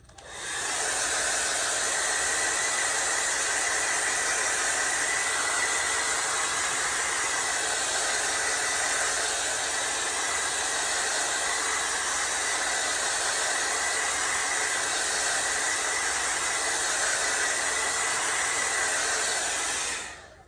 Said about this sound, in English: let me hit this with the blow dryer real quick.